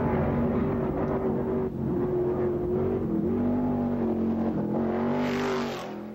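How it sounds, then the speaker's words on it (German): Thundering stock cars racing up Pikes Peak in 1987, a loud sustained engine roar with shifting pitch as a car accelerates and holds revs, fading slightly at the end, no voices. "Die donnernden Stock Cars."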